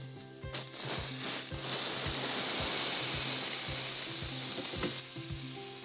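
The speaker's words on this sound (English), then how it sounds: "I think my roast is ready to flip and sear on the other side" A venison roast sears in a hot pan with a loud, dense, continuous sizzle, broken by a few low knocks and scrapes as the meat is flipped.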